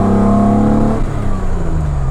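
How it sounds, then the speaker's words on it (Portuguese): A V6 engine fitted in a Ford Escort XR3 revs up close and loud, a rising harmonic roar that drops back toward idle. "Vocês ouviram aí o som do V6?"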